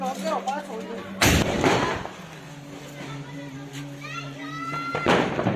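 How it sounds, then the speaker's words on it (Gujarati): Two loud, sharp Diwali firecracker blasts go off a few seconds apart, with children talking and calling out around them. "હવે મેજિક મિસ્ટ્રી બોમ્બ તારો જોઈએ તો કેવું ફંક્શન આપે છે"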